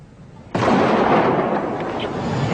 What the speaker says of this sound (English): launching 75 cruise missiles at Afghanistan and Sudan